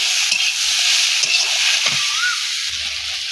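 Greens with shrimp, salt, turmeric, chilli powder, mustard paste and cumin paste stirred in a hot pan: a loud, continuous close sizzle with a few soft scraping strokes, no talking.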